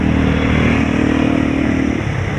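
A motorcycle with a weak, run-down battery, push-started instead of kick-started, idles steadily with a close, continuous engine rumble throughout.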